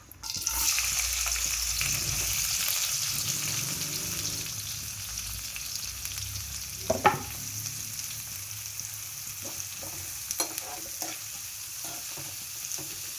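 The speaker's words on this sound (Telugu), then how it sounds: "ఆనియన్స్ కొంచెం కలర్ మారేంత వరకు ఫ్రై చేసుకోండి." Onions and green chillies fry in oil in a pan with a steady, bright sizzle, interrupted by occasional scrapes and clinks of stirring, close and without talk.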